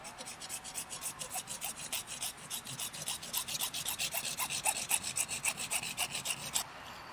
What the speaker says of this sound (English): using the hacksaw, make 2 cuts, one here and another one about 1 inch over